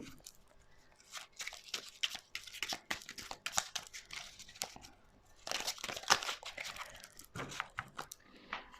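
Tarot cards being shuffled and handled, giving repeated crisp crinkling, flicking and rustling bursts close by, with brief pauses between handfuls and no talking.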